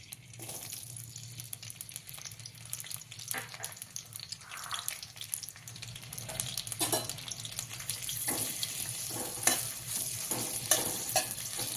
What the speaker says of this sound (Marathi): मी तेल टाकलेलं आहे कढईत आता टाकणार आहे बारीक चिरलेली मिरची